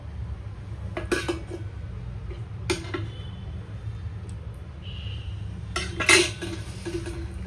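A kadai being washed in a kitchen: scattered clanks and clinks of metal pan and utensils, a few sharp knocks spaced over several seconds, close by with a quiet background.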